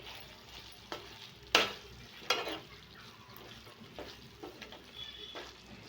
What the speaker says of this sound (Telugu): పుదీనా కొద్దిగా కొత్తిమీర కొద్దిగా ఫ్రైడ్ ఆనియన్స్ వేసుకోండి వేసుకొని ఇదంతా బాగా మిక్స్ చేసుకోండి